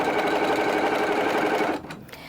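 A sewing machine running steadily as it stitches a quilt seam, a close continuous whirring hum that stops near the end.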